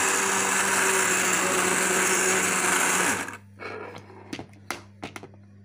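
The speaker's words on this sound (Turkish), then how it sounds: "Şimdi blenderdan geçiriyoruz." A kitchen blender pureeing cooked soup, a loud high whirring motor running steadily for about three seconds, then cutting off and leaving a few clinks and small handling sounds.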